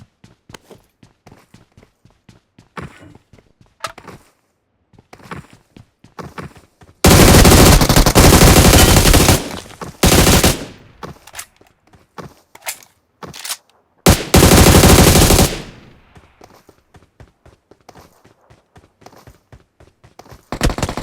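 Bursts of automatic gunfire sound in a bridge ambush in a PUBG-style shooter game, with long loud volleys between quieter stretches of rapid footsteps and single shots.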